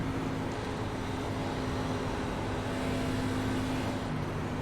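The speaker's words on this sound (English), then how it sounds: "Car by." Race car engine in the iRacing sim during an Xfinity race at Texas under a yellow flag, a steady loud drone with a constant tonal hum and no clear pass-by swell.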